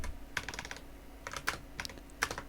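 Computer keys clatter in short bursts of quick, crisp taps separated by brief pauses, close and moderately quiet.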